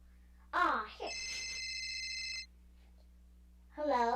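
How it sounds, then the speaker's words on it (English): A telephone rings with a steady electronic bell tone lasting about a second and a half, framed by brief bursts of voice before and after it. "Oh, it looks like my phone is ringing."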